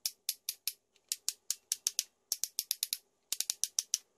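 Spring-loaded ratcheting joints on a Fans Toys FT-04 Scoria transforming robot figure click sharply in rapid bursts, about two dozen crisp, close plastic ratchet clicks grouped in quick runs with short pauses between them, in a quiet room.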